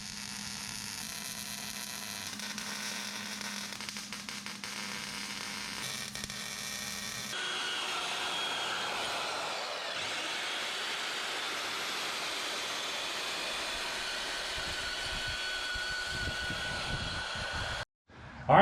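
Steady crackling, hissing welding on the pipes of a 4x4 CrossKart front end, running continuously for most of the stretch and fairly close, with a low hum underneath and no talking.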